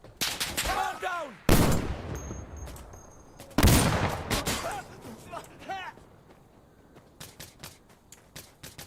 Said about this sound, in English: Just shooting a Barrett like this, I love it.